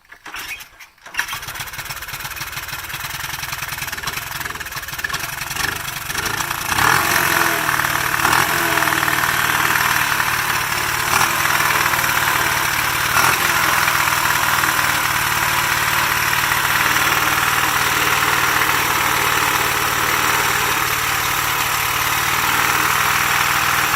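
A Honda ST90 motorcycle engine is cranked a few times, catches after several seconds, then runs steadily at a loud, rough idle for the rest of the clip.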